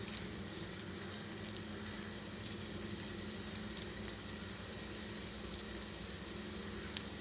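Palak spinach vadas fry in oil on a tawa, giving a steady, even sizzling hiss scattered with sharp little pops, with no talking.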